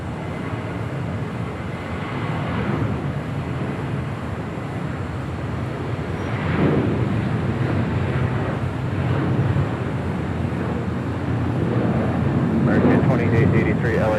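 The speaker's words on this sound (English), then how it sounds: "United Airlines Flight 230, coming in from London. It's a 787-9 Dreamliner." United Airlines Boeing 787-9 Dreamliner arriving from London at Los Angeles International Airport, a sustained jet rumble that swells louder toward the end, heard under ongoing talk.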